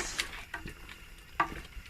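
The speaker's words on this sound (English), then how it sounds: "it's splashing everywhere. So I just add my meat." Meat hisses and sizzles as it drops into a hot pot of oil for tomato stew, with a few sharp spatter bursts and stirring scrapes, quiet and close.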